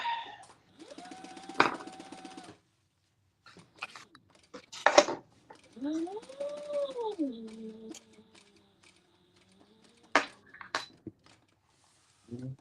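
A home sewing machine with bobbin trouble, running in short stitching bursts between quiet pauses, with clicks, sharp knocks and a rising and falling whine as it is adjusted and restarted.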